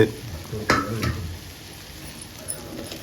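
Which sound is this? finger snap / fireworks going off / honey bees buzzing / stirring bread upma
stirring bread upma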